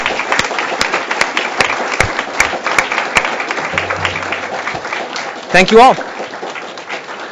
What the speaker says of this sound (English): let's conclude with a round of applause for the terrific